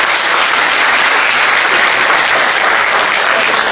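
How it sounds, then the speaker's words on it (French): Sustained audience applause at a theatre performance, dense steady clapping filling the hall throughout, loud and close with no speech over it. "Applaudissez pour lui."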